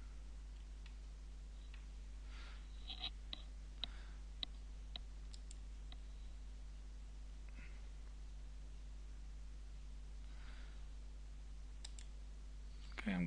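A handful of faint, sharp computer mouse clicks scattered over a quiet room hum while someone installs software on a laptop, spaced irregularly with no talking.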